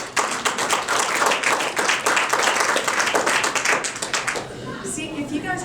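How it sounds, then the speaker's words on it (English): A poetry reading audience claps together in a full, lively round of applause that holds steady for several seconds, then thins out and fades as a few voices murmur. "if you guys clap, then I always want to compete with myself for more applause for this"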